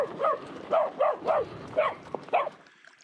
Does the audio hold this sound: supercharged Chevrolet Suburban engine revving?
no